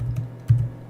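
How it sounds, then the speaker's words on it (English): Close, crisp keystrokes on a computer keyboard as a Maven command is typed for a Java EE project: a few distinct taps with brief pauses between them. "we're going to type Wildfly-Swarm"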